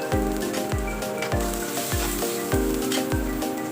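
Garlic and ginger fry in a hot pan for a prawn curry, a steady close sizzle with repeated low thumps and scrapes of stirring at a regular rhythm, no talk.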